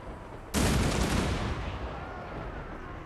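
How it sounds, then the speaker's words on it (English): An organ gun firing in the Total War Warhammer 2 video game, a sudden loud blast of rapid overlapping shots that rolls into a long, rumbling tail of battle noise. "Maybe we can shoot into the edge of the blob. Organ gunner!"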